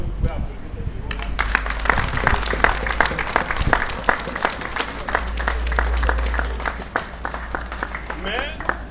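Crowd claps in distinct, uneven bursts at a meeting of foreign affairs ministry staff and their union office, moderately loud, with voices and low rumble running underneath.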